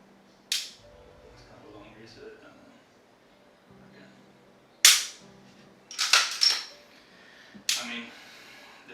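A Glock Gen 6 pistol trigger is dry-fired: a few sharp, loud clicks with quiet gaps between them, then a quick cluster of clicks as the trigger resets, along with a faint voice.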